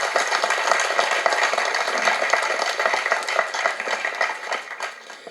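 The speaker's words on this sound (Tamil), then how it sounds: "இந்த அரங்கமே அதிர மாதிரி அப்பாவுக்கு பலத்த கரகோஷம் கொடுங்க." An audience at a Parai audio launch event breaks into loud, dense applause in a hall, a steady wash of many hands clapping that thins slightly toward the end.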